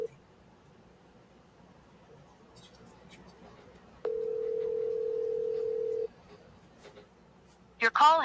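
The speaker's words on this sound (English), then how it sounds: "Your call has been forwarded to voicemail." A phone call rings out as a steady electronic ringback tone that holds for about two seconds over quiet background, followed by a brief sharper burst near the end just before voicemail picks up.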